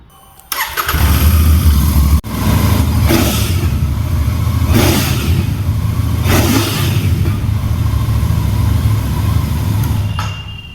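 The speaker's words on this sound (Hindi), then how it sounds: "एक बार इस बाइक को स्टार्ट करता हूँ और आपको साउंड सुनाता हूँ" A Royal Enfield Interceptor Bear 650 motorcycle engine cranks and fires up, then idles loudly with several throttle blips revving it up and down, close by.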